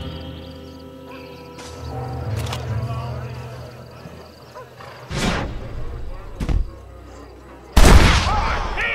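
Gunfire in the Red Dead Redemption video game: a few sharp, loud broadband shots at irregular intervals, the last one heaviest, over game music and speech.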